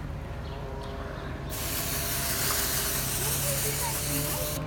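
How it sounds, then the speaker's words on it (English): An aerosol can of blue hair color spray hisses in a long, loud continuous burst close by, starting abruptly after a quieter stretch and running to the end. "One more spray."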